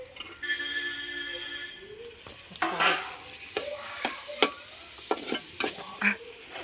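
Tomatoes frying in a pan while being stirred, with an ongoing sizzle and repeated sharp clicks and scrapes of a spoon against the pan, close and clear.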